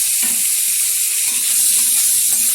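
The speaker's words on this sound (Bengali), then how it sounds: "সুন্দরভাবে নাড়াচাড়া করে উল্টে পাল্টে ভেজে নেব" Pointed gourd and bitter gourd sizzling in a little hot oil, a loud, steady hiss with fine crackling throughout and no voices.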